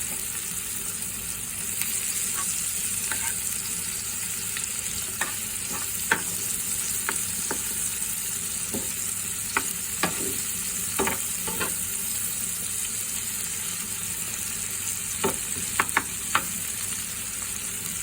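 Onions sizzling in hot oil in a frying pan, cooked after hilsa fish, give a steady bright hiss throughout with occasional sharp spatter pops and light stirring clicks, close and even in level.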